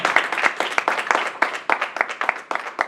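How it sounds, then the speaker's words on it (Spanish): Church congregation clapping in a rhythmic, steady beat, close and fairly loud, with faint voices mixed in. "Denle ese aplauso al Señor."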